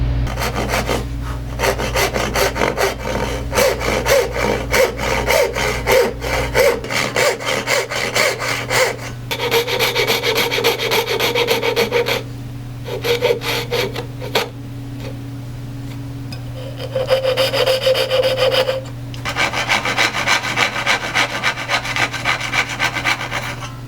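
A hand saw cuts dovetails in a wooden drawer board, its steady back-and-forth rasping strokes loud and close, in long bursts separated by a few short pauses.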